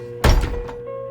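A door is opened with a single solid thunk and a short rattling release, close and fairly loud against a quiet hum of room tone.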